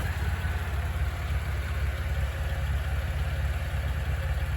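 A performance Vauxhall Insignia engine idles steadily close by, a low, even rumble with a slight pulsing throb that holds without change.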